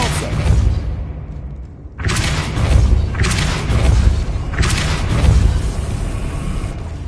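Depulso spell effect in the Hogwarts Legacy video game, several loud booming bursts roughly a second apart, each hitting hard with a deep thud and bright crackling tail.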